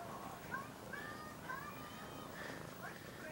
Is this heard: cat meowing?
yes